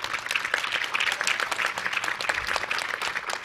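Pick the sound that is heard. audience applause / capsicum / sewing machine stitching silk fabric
audience applause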